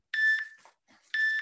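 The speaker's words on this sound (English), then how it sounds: "Ignore the timer." A workout timer gives two loud, close electronic beeps, each lasting about a quarter second, separated by a pause of about a second with faint background noise.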